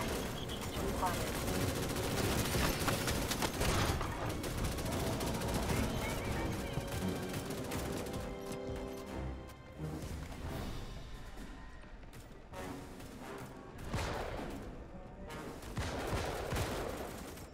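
Rapid sustained gunfire from a base under attack in Starship Troopers Extermination, dense bursts of machine-gun fire and fusillades that ease off and then swell again, with radio voices over the combat.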